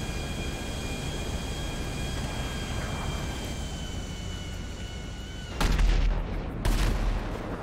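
Explosions in the GTA V video game come as two loud, sharp booms near the end, bursting over a steady roaring rumble that fills the earlier part.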